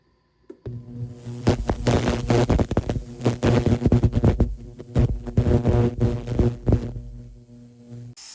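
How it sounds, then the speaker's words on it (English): An ultrasonic jewelry cleaner running with a tarnished silver pendant inside, a steady electric hum under dense, rapid throbbing and crackling pulses that start abruptly and carry on loud and close with no talking. "Now it's going to go into the ultrasonic, get that compound off"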